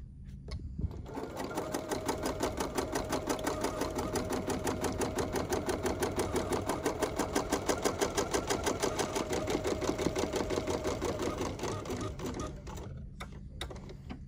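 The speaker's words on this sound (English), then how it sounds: "I'm going to engage the basting function because I want to kind of sew this background onto" An embroidery machine runs steadily, sewing long basting stitches to hold background fabric onto the hoop, its rapid needle clatter loud and even for the whole stretch before stopping near the end.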